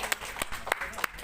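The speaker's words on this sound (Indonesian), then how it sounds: "tepuk tangannya untuk Dr. Hewan Agus Effendi" A seminar audience claps in a short, sparse burst of separate hand claps, several distinct slaps spaced irregularly over a faint room background.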